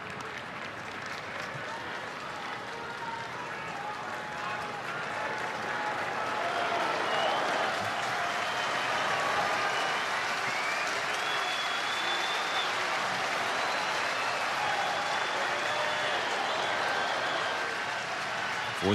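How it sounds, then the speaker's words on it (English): A Fourth of July baseball stadium crowd at a Padres–Dodgers game cheers and applauds in a broad, continuous roar that swells after the first few seconds, with a broadcaster talking over it. "Fourth of July crowd engaged in the first inning, knowing Yamamoto needs one more strike."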